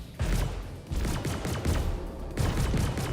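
Ship turret guns firing in Star Citizen, loud repeated bursts of heavy rapid fire with short pauses between volleys.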